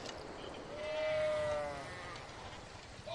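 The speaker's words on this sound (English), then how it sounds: "There's a lot of sheep over here." A single sheep bleats in a Civilization 6 game on PS4, one drawn-out, wavering call in the middle over a faint background of game sound.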